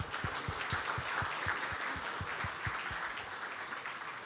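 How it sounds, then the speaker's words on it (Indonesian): An audience at a CSIS event claps for presidential candidate Ganjar Pranowo, a dense, sustained round of applause with a few louder rhythmic claps standing out, heard alone without talk. "Mari kita kasih aplaus yang besar kepada Ganjar."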